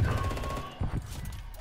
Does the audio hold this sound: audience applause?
no